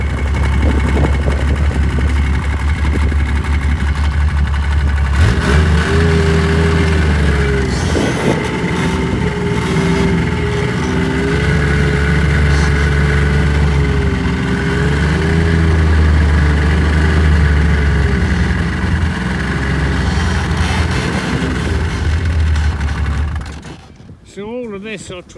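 Yamaha Viking snowmobile engine running on a forest trail in snow, a loud, steady mid-pitched drone that rises and falls with throttle before cutting off near the end.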